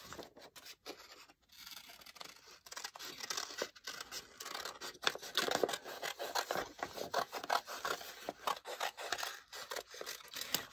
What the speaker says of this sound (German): Dafür schneide ich das jetzt so ein bisschen aus.